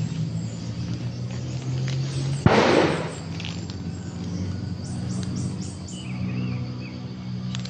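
A single sharp gunshot cracks once, loud and fairly close, in a tense armed confrontation in a game, with a brief burst of noise trailing off into a quieter ambient background.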